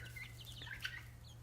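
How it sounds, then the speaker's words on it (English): A young yellow chick clucks in soft, faint chirps over a steady low hum, several brief peeps scattered across a second and a half. "This is a typical Easter egg chicken, typical yellow chicken."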